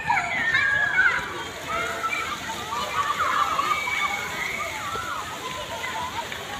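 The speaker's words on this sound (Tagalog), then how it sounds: "Water play for kids." Kids splash and slosh about during water play, with bright children's voices and chatter woven through the steady, close splashing.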